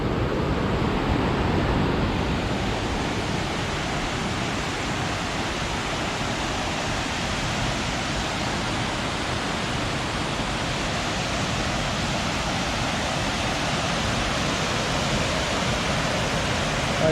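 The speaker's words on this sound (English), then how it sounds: "So this to my right is Big Creek." Big Creek in Olympic National Forest, Washington, rushes past in a steady, loud, broadband roar of water that holds unchanged the whole time, with no voices over it.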